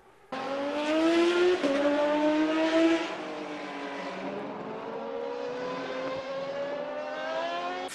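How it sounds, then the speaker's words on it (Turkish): A Red Bull Racing RB7 Formula 1 car drives on a racing circuit, its high-pitched engine whine rising and shifting through gears in a continuous loud drone that eases slightly toward the end. "Ogier, Red Bull Racing takımının RB7 aracıyla Formula 1 pistinde sürüş yaptı."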